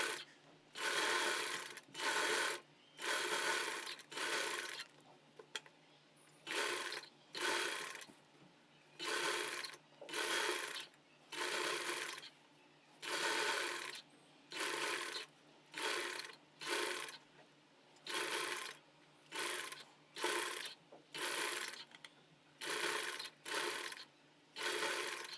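A sewing machine stitches thread piping along a marked fabric edge, running in about twenty short regular bursts of rapid mechanical whirring separated by brief pauses, close and clear with no talking.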